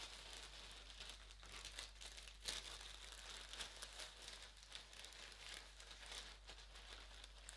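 Turmeric rhizomes go into a small plastic bag, which crinkles and rustles steadily and close up, with one sharper crackle partway through and no talking.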